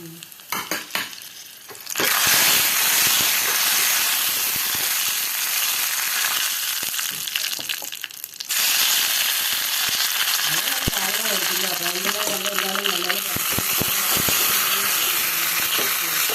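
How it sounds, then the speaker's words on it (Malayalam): Mustard seeds, curry leaves and dried chillies sputter and sizzle loudly in hot oil for a South Indian tempering, a dense crackling hiss that starts after a couple of seconds and continues with brief pops, a voice faintly present in the background. "കടുകും കറിവേപ്പിലയും വറ്റൽ മുളകുമാണ് വറുത്ത് ചേർക്കുന്നത്."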